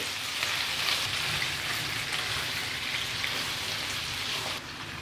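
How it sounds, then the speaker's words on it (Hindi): Steady, dense sizzling and crackling of chicken frying over high heat in a hot pan, continuous and close, with no talking. "2 मिनट तक हम चिकन को इसी तरह फ्राई करते रहेंगे।"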